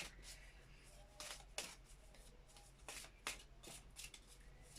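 Tarot cards being shuffled at close range during a reading, a series of soft papery riffles and slaps with brief bursts spaced irregularly over a quiet background.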